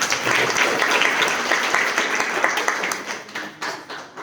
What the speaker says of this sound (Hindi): डबल ताली बजा दीजिए एक बार